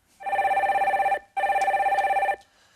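A telephone rings back while a call is being placed during a live phone-in broadcast, giving two long trilling bursts with a short gap between them, loud and close with no talk over them.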